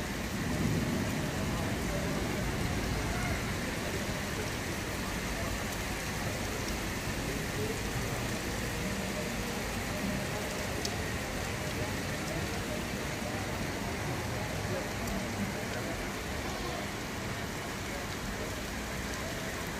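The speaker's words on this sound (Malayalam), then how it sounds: "ഇതിപ്പോൾ നല്ല ഹെവിയൊരു മഴയാണ്" Heavy rain pours steadily during an evening thunderstorm in the UAE, a dense, even hiss that holds at a constant level from start to finish without breaks.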